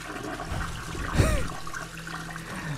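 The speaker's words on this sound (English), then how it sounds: "suddenly I heard the toilet flushing by itself" A toilet flushes on its own in a haunted hotel in Johor Bahru, Malaysia. The flush is a steady whoosh of rushing and gurgling water that swells in the middle and then trickles on, with no voices.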